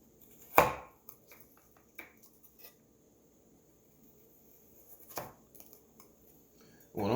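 A knife cuts carrot into strips on a board, with a few sharp, separate chops and soft scraping between them, quiet and close, with long near-silent gaps.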